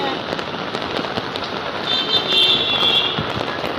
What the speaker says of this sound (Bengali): হেভি জোরে বৃষ্টি হচ্ছে